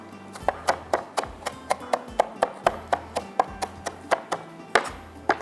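A knife finely chopping fresh mint leaves on a board, struck in a steady run of about twenty crisp, close taps, even in rhythm, with no talking.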